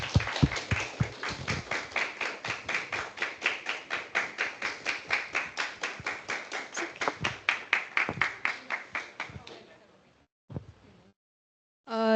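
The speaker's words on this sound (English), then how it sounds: "Claps." Rhythmic clapping at a Toastmasters speech meeting, a steady run of evenly spaced claps, fairly close and clear, that fades out raggedly near the end before a short bit of sound at the very close.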